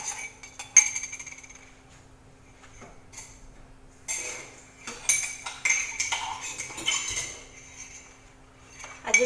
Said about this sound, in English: just went to rinse the cup